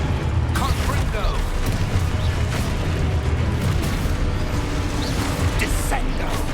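The Confringo spell in Hogwarts Legacy produces fiery explosive blasts amid constant dense combat noise, with booms and bursts layered over a loud, continuous mix of magic effects.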